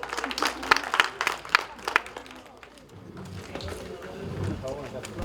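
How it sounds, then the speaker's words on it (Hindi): A workshop audience gives a folk theatre performer a round of applause, lively claps for about two seconds fading into murmuring and talk. "इनके लिए जोरदार तालियां।"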